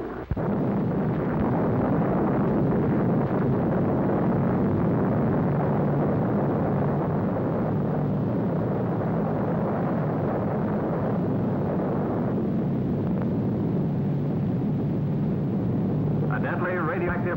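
Atomic bomb detonation at the 1946 Bikini test, a sustained, loud broadband roar and rumble lasting throughout without a clear initial crack.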